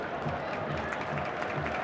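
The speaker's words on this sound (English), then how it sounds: "Round of applause for the player" A stadium crowd at the 1995 Toyota Cup football match between Ajax and Gremio applauds a player, a steady wash of distant clapping and crowd noise with faint commentary voices underneath.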